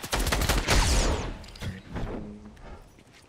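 Rapid assault rifle fire with a red dot sight in the video game Fortnite, a dense burst of shots in the first two seconds that then tapers into scattered, quieter impacts and thuds.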